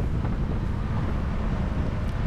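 Wind blows across the course of a UFOLEP road bike race stage, buffeting the microphone with a steady, low, roaring rush for the whole moment and no other clear sound.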